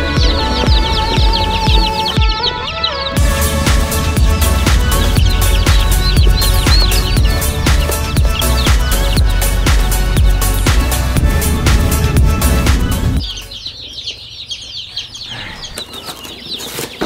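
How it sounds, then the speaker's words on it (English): Chicks and turkey poults in a warm brooder make dense, continuous high cheeping and fluttering for about thirteen seconds, loud and close, before the din drops to a quieter scatter of peeps. "Chicks, turkeys."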